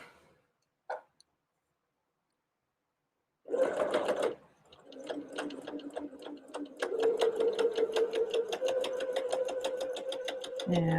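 Sewing machine chain piecing the second sides of pinwheel lap quilt blocks, a brief start and then a steady close stitching run with fast regular clicks after a short pause.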